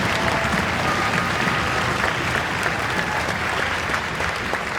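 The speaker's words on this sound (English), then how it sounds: "So how about a round of applause for Ms." A school spring concert audience gives a sustained, dense round of applause for a music teacher, loud and even from start to finish with crowd noise blended in.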